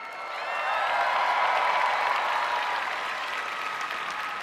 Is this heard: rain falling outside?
no